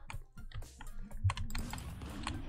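A dog paws and presses at a computer keyboard, producing irregular clusters of close key clicks and rattles with brief pauses in between, no voices over it.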